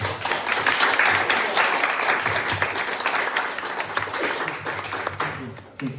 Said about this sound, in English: Okay, big applause.